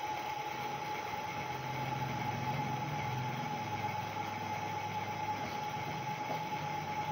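A 6–24 volt DC gearbox motor, rated 210 RPM at 24 volts and powered from a battery with its leads swapped, runs in reverse with a steady, even mechanical hum and whine that stays constant throughout.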